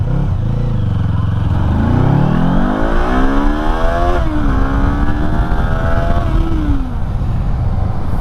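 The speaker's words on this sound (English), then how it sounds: "Alright, one more takeoff, one little launch." A Kawasaki Eliminator motorcycle pulls away from a stop on an Idaho ride, its engine note climbing steadily through revs with a brief dip at a gear change, loud and close over steady wind rush, with no talking.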